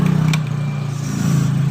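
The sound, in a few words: Yamaha NMax scooter engine running rough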